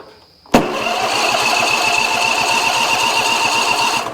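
A junkyard John Deere zero-turn mower, choked, cranks and catches abruptly, then settles into a loud, steady idle with a rapid rhythmic chug, close by.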